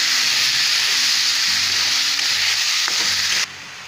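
Onion paste frying in a pan for a jackfruit curd curry, a loud, dense, close sizzle that runs steadily with a faint scrape, then drops suddenly to a quieter hiss near the end.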